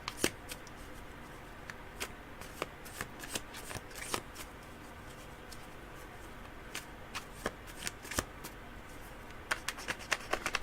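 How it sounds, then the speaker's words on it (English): A deck of tarot cards is shuffled by hand, with soft continuous riffling and sharp irregular card snaps and taps, close and quiet, with no talking. "These cards are pretty much shuffled. I'm just shuffling now."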